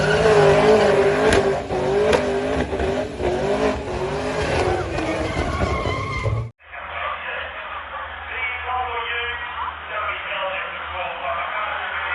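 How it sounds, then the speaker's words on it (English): Holden VE SSV Ute doing a burnout skid at Summernats, its engine roaring loudly with screeching tyres amid crowd noise, then the sound cuts to a different, thinner-sounding recording of continued engine noise with a commentator talking over it. "He's now doing the punishing skid"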